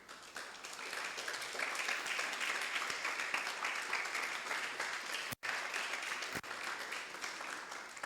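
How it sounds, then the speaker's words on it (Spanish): An audience at a church service breaks into sustained applause, a dense, even roar of clapping that runs several seconds and briefly cuts out once. "Denle un aplauso."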